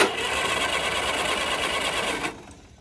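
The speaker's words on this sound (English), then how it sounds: "I wonder if the starter bearings are making that horrible noise." The starter cranks the engine of a 1942 Caterpillar D47J dozer, a steady, rapid mechanical whirring and rattling, loud and close, that runs for about two seconds and then cuts off.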